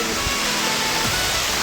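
Water gushes steadily from a water pump outlet, a loud, dense and continuous rushing roar heard close with no break.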